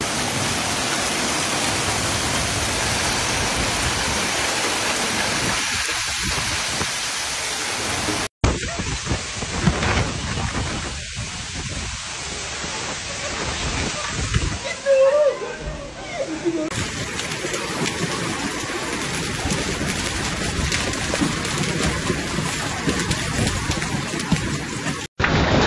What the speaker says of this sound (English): ¡Mirá ese granizo, mirá!